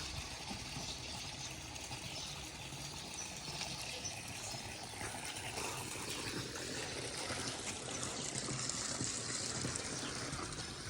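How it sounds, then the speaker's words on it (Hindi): Water rushes and gushes steadily at an old open-air laundry washing place in Portugal, a broad constant flow that stays close and fairly loud throughout, with no voices. "ये यहाँ से आ रहा है जी पानी"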